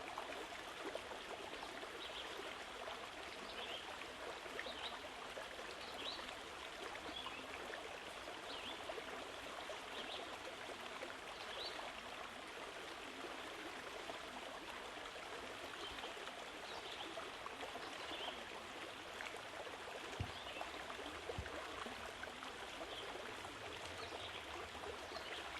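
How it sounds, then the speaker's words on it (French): A river's water flows steadily beneath a small footbridge, a continuous close rushing and trickling that holds even throughout, with no voices. "d'écouter l'eau qui coule"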